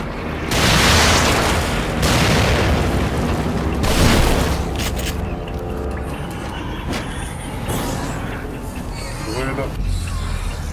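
Grenade blasts in The Evil Within, several heavy booms in quick succession early on, followed by rumbling game noise and lighter effects, with a person talking over the action.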